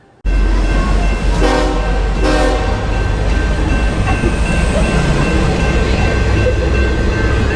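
A train rumbles past at close range, loud and steady throughout, with two short horn blasts sounding early over the continuous roar of the wheels and cars.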